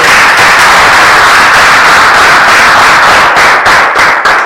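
Dense, steady applause from a crowd at a civil wedding ceremony for the couple Richard and Josiane at the Bushekeri sector office, continuous clapping at full volume for several seconds with no voices over it.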